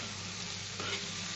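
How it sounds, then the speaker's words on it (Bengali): Ground spices, including dry red chilli powder, sizzle steadily in hot oil in a pan as they are stirred for a pumpkin and prawn curry. The frying hiss is loud and even, with one soft scrape partway through. "এই দিয়ে আমি খুব ভালো করে একটু কষে নিচ্ছি।"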